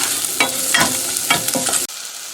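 Onions with fenugreek seeds are sautéed in a pan for a chickpea curry: four loud, rhythmic stirring scrapes over a constant frying sizzle, then the stirring stops abruptly and only the faint sizzle remains.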